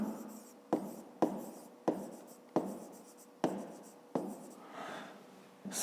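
A pen writes by hand on paper while someone works a fifth-grade maths exercise, each stroke set starting with a sharp scratch then tapering, about seven bursts in steady rhythm, close and alone.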